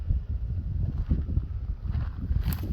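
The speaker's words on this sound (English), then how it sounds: "Rather windy this morning." Wind gusting across open desert at an Arizona ghost town: low, rumbling buffeting on the microphone, steady and fairly loud, with no speech.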